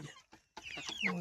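Broiler chickens about 45 days old jostle and peck in a shed rack overhead, giving a few short, soft clucks in quick succession, faint and close-miked with brief gaps.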